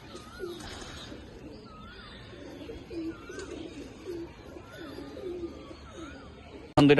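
Giribaz pigeons coo inside a loft, giving soft, repeated low coos in a steady rhythm that carry on throughout at moderate volume.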